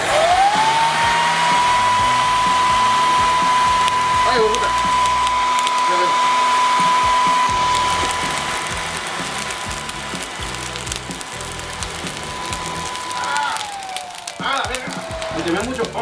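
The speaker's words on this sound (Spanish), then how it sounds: "es usar esto, una secadora de pelo" A hair dryer blows steadily onto a charcoal grill used for carne asada with ribeye steak, its loud, even whine holding throughout before dropping near the end, where a voice shouts an exclamation.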